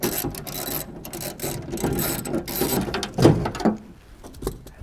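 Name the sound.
removing screws from a 1967-72 Chevy truck window regulator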